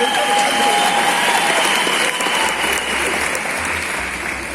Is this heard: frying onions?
no